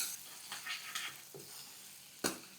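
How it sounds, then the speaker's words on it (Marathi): Moong dal roasting in a pan until golden for moong dal halwa, with a soft steady sizzle broken by several sharp scrapes of stirring, one louder near the end. "खरपूस सोनेरी रंग येईपर्यंत भाजायची"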